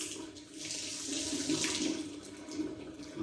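Tap water runs steadily into a sink while mixing cold and hot water for a social hand wash, a continuous close splashing rush with no talking.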